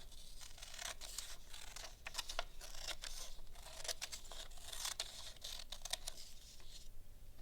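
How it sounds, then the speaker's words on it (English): Scissors cut through paper along a folded line, a continuous run of crisp snips and papery rustling, close and fairly soft with no talking. "you get to cut that line one more time using your scissors"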